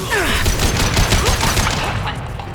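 Sustained rapid gunfire from the Mass Effect 2 shooter game on Insanity difficulty, dense overlapping shots and bursts filling the whole stretch at steady loudness, with a voice briefly mixed in.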